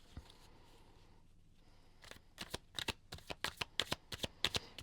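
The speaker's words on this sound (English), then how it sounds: "So we're just going to keep pulling the cards." Tarot cards shuffled and drawn, a quiet rustle first, then a quick run of crisp riffling flicks close by, about a dozen sharp snaps in the final seconds.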